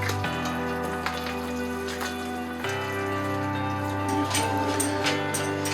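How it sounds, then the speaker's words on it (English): Goose stock simmering in a pot: a steady soft bubbling sizzle over a constant low hum, continuous and close throughout. "now we got a nice little simmer going"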